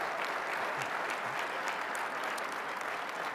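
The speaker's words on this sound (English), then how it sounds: "Come on and give them a round of applause." A conference audience claps in a dense, steady, continuous burst of applause that holds evenly at full strength throughout, with no voices over it.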